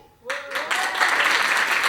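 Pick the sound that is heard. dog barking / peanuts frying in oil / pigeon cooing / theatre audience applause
theatre audience applause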